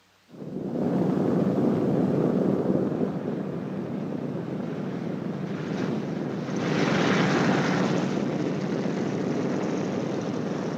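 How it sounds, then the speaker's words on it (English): A WWII-era propeller airplane comes in to land, a broad, steady engine roar that starts abruptly, holds loud and close, then swells again toward the end with no voices. "When you touch the ground, the plane should be slightly tail low and going between 95 and 100 miles per hour"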